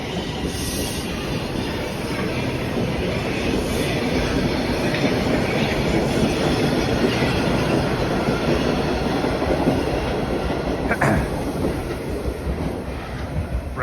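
A Toronto subway train rolls past the platform at Rosedale Station, a steady loud rumble of rail noise with clattering wheels and occasional squeals, continuing throughout without voices.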